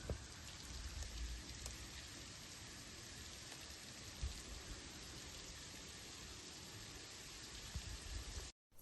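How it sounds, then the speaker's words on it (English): Hail and snow coming down onto an outdoor deck on a chilly autumn day, a steady, fine, close patter with no voices, holding even throughout before cutting out at the end. "there is some hail and snow coming down at the moment"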